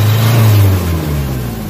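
A close, loud Nissan Vanette engine with throttle delay and low power revs briefly and then settles back into a rough idle.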